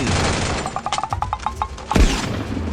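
Rapid bursts of gunfire crackle in a shooter video game, a quick string of sharp shots clustered together over a steady game backdrop, closing with one heavier thud.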